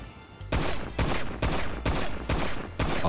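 Rapid gunfire from a GTA 5 game plays in five or six loud, dense bursts, each about half a second long with short gaps between them, close and dominant with no talking.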